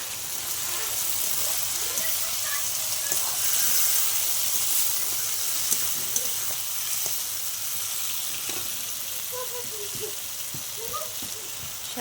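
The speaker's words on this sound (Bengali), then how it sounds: "মশলার বাটিটা ধোয়া জল একটুখানি দিয়ে দিলাম।" Water splashed into a hot pan of spiced food on a rainy day sets off a steady, loud sizzle and hissing steam that fills the whole stretch, with light stirring scrapes scattered through it.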